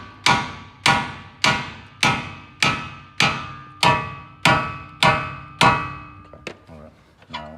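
A hammer strikes a steel coilover part on a Nissan S14 about ten times in a steady rhythm, each ringing metallic clang decaying quickly, followed by a few lighter taps.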